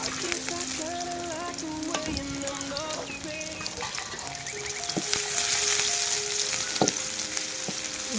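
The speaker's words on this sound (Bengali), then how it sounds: "এখন এইগুলোকে একটু ভেজে নেব।" Chopped onion with a tablespoon of ginger-garlic paste frying in soybean oil in a pan on a village stove, giving a steady close sizzle with occasional stirring scrapes.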